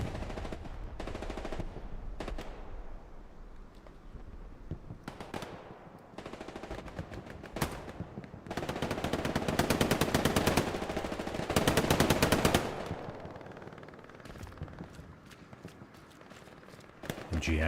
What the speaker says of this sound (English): MG action from Joker Tige.